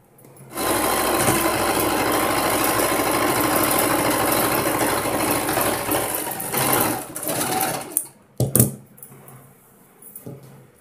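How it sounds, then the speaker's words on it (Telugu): A sewing machine stitching a blouse, running in a loud, even, rapid whir for several seconds, then stopping with a few brief handling knocks close by. "కుట్టు వేసేద్దామండి"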